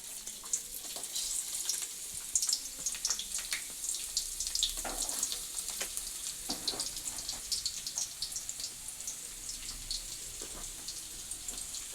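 Cut onions fry in a pan with a soft, continuous sizzle full of fine crackles and small pops, fairly faint and steady throughout.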